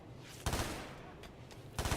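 Gunfire in the colony-building game Rimworld: two sharp broadband bursts of rapid shots with a few fainter cracks between them, fairly loud over a steady low background.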